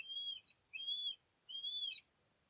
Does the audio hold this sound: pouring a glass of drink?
no